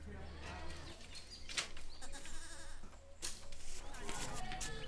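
Goats bleating at a livestock training center in Liberia, several calls rising over steady background noise and a low hum, with people talking throughout.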